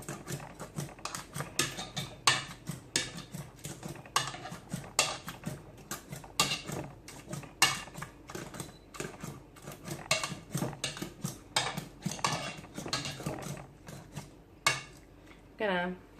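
Cooked apples mashed in a pan for applesauce, giving a steady run of close, irregular clanks and soft squishy scrapes of a utensil against the pan, with a louder knock near the end.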